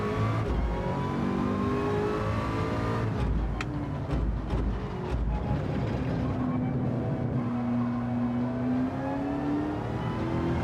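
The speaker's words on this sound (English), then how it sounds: "God, that car sounds good, doesn't it?" A race car engine in a racing video game drones loudly and continuously, revving through sharp gear changes before settling into a rising, sustained pitch as the car accelerates.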